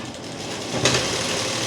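A sewing machine runs steadily, stitching salwar fabric in a short, continuous electric whir that holds an even hum before swelling slightly near the end.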